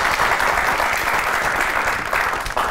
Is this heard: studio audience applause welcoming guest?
yes